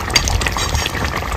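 Liquid poured into a cooking pot in a kitchen for a fish and greens dish, a loud close continuous gurgling splash with a low rumble throughout.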